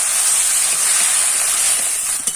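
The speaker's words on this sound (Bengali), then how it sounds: "1 বাটি জল দিয়ে দেবো।" Water poured into a hot pan of potato filling gives a loud, steady hiss of steam and sizzle that holds evenly for a couple of seconds, with a brief clatter near the end.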